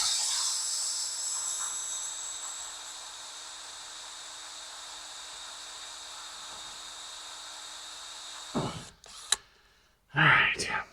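An electric drill whines steadily as a bit bores into a bolt on a Poulan lawn mower, a high sustained tone that stops near the end before brief bumps and handling noises.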